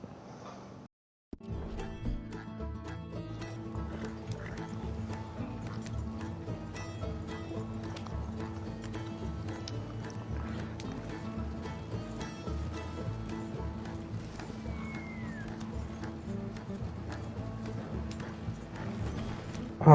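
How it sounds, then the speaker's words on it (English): Horse hooves in the open-world game Red Dead Redemption 2 clip-clop steadily and quietly beneath a faint ambient background, a continuous walking rhythm lasting throughout after a brief pause at the start. "Oh, my horse is following me."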